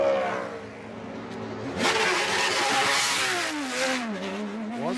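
An IndyCar-style race car at the 2013 Brickyard Grand Prix at Indianapolis accelerates hard out of the pit box, its engine note climbing through the gears, loud and close, with no talk over it.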